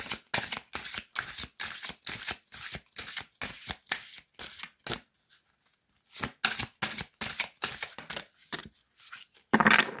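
Oracle cards being shuffled by hand in rapid riffling bursts, close and crisp, with a brief pause midway before the shuffling resumes and ends in a sharper burst.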